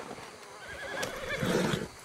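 A horse whinnies in the Red Dead Redemption 2 video game, a moderately quiet neigh rising over soft game ambience and light hoof movement, with no talk.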